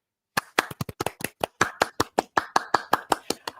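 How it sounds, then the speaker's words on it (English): Round of applause for Roy during a live discussion show: a burst of hand claps, about twenty sharp irregular claps over a few seconds, fairly close, with no talking. "let's go ahead and give a round of applause for Roy"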